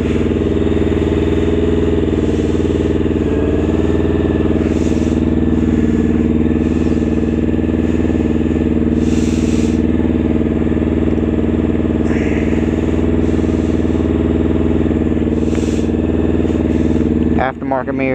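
A Honda F4i motorcycle engine running steadily on its first ride, a loud continuous drone with slight rises in pitch, heard close with wind noise and a brief squeal near the end.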